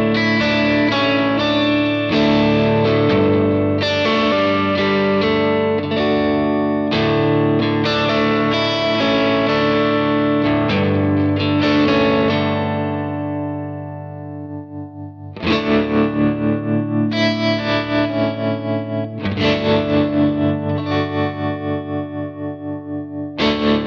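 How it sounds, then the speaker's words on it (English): An electric guitar rings out sustained chords through effects, first played plainly and then with tremolo pulsing the volume in a steady wavering throb, loud and close with no talk. "I might play more and give more information from the guitar if the tremolo is off than I would if the tremolo is on."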